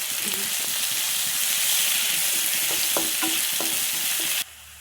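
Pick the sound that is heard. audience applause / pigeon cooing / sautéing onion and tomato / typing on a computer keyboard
sautéing onion and tomato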